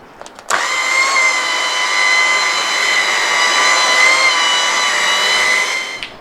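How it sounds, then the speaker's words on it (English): A power buffer polishes a boat's hull surface, spinning up abruptly into a loud, steady high-pitched whine with layered tonal hum, held evenly for several seconds before cutting off. "Now the trick here is to just keep the buffer moving and keep it completely flat to the surface."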